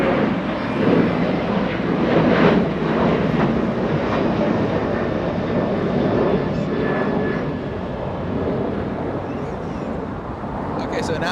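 A British Airways Airbus A350-1000 jet flying near Los Angeles International Airport, a loud, broad roar that holds steady before gradually easing, with a voice talking over it.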